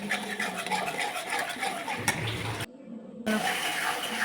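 Water poured from a rinsed paste bowl into a pan of frying spice paste for chitol fish curry, a steady watery rush and splash alone at close range, ending in a short sizzle.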